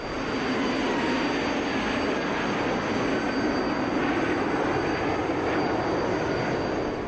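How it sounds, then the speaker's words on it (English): An F-104G jet in a flight simulator game roars in afterburner, a steady broadband rumbling drone that holds loud and unbroken from start to finish. "that booming sound you hear in the background is every once in a while I'm going to get the throttle into afterburner mode"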